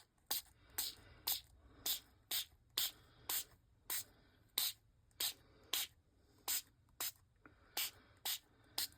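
Homemade mica spray made with India ink, misted from a pump sprayer in about sixteen short, even hissing bursts at a steady rhythm, close by and fairly quiet with brief gaps between.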